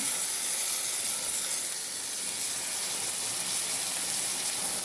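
Small cut potatoes and dried fish sizzle steadily in a hot pan, a loud, even, continuous hiss with no break.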